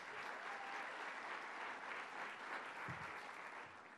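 An audience applauds with a steady, dense wash of clapping that holds for several seconds and fades slightly at the end.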